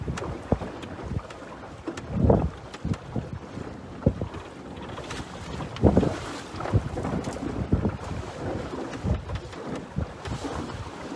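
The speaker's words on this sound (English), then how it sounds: "we're about to get big wind right here now" Strong, gusting wind roars across a microphone aboard a sailboat, with a steady broadband rush and sharper buffeting bursts, plus faint water and hull noise underneath; no talking.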